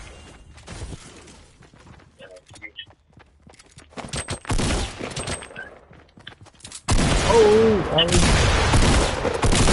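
Shotgun fire in an online shooter game, a string of loud sharp blasts and rapid bursts building to sustained heavy gunfire, with players talking excitedly over it.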